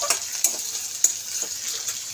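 Sliced onion and panch phoron frying in oil in a pan for betho sag chochri, a steady close bright sizzle with a few louder crackles and pops and no talk.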